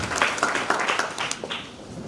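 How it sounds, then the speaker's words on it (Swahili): Audience applause at an outdoor political gathering in Kenya, a steady crowd clapping at moderate distance with faint voices underneath. "Tuwapigie makofi ni wengi sana."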